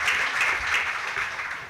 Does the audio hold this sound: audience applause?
yes